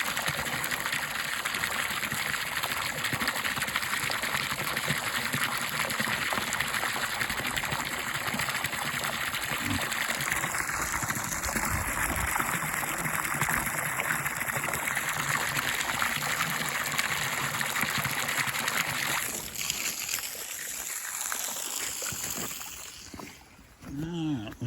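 Water runs steadily from a hose or tap on a farm on a cold morning, a continuous splashing rush that fills the clip until it cuts off near the end.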